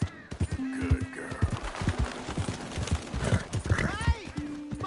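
A horse in Red Dead Redemption 2 clops its hooves in quick rhythmic beats and lets out whinnying neighs. Characters talk over the hoofbeats.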